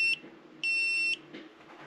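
An armed EggTimer rocketry altimeter with a voice module emits two loud, piercing electronic beeps up close, one short and one longer, followed by faint quieter sounds.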